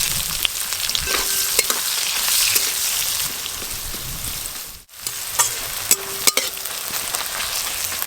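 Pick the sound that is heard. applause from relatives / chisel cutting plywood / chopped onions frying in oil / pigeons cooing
chopped onions frying in oil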